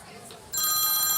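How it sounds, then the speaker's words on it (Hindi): A phone starts ringing partway through with a bright, steady electronic ring tone that is loud and close, following a quiet moment. "वह फोन किसका बज रहा है ये?"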